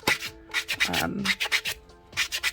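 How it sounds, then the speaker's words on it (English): Dip powder nails are buffed smooth with a buffing block in short, close, rhythmic rubbing strokes, about a dozen quick swipes in bursts with a brief pause near the end. "then we grab a buffing block, and I'm just gonna buff the whole thing smooth."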